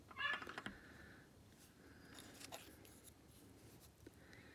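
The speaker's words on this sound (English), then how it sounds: "you can hear my dog in the background" A dog whines in high, thin bursts in the background, a sharp cluster near the start and softer whimpers later over a low room hum.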